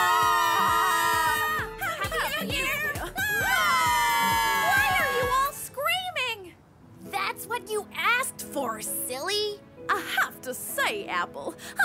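Cartoon characters at a New Year party let out a long, loud burst of overlapping shrill screams, then talk back and forth in animated voices.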